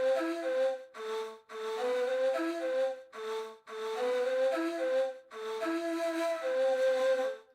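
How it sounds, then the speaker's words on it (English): A ney flute sample from East/West Composer Cloud plays breathy, airy melodic phrases in several connected note groups with brief pauses, clear and unaccompanied. "The ney flute."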